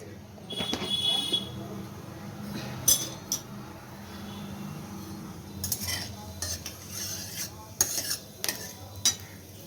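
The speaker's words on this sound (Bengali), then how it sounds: "কড়াই 5 ফোড়ন দিলাম।" Five-spice (panch phoron) tempering in hot oil in a kadai wok for a vegetarian vegetable dish, with a low sizzle under intermittent metallic clinks and scrapes of stirring, close by, plus a brief voice.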